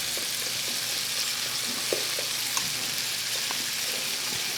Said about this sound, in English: You've got to constantly stir these grits too